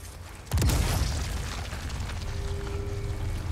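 A grenade detonates in the Resident Evil 4 Remake video game: one loud, close blast hits suddenly, then rolls into a long, heavy rumbling tail that stays loud to the end.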